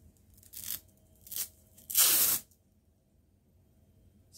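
A strip of fabric is torn in two at a sewing table: three rough ripping bursts, two short ones followed by a longer, louder rip, close up with no talking.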